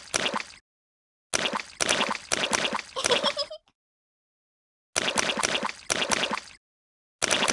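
Puddle splashing in a Peppa Pig video game: loud, bursty watery splashes come in close clusters of several quick splashes, separated by short silent gaps.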